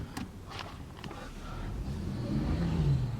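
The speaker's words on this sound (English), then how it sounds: "I'm in the backyard doing donuts." A Toyota Land Cruiser FZJ80 80 Series spins donuts in a backyard. The engine rumbles low and close and rises steadily in loudness over a few seconds, with a few brief clatters near the start.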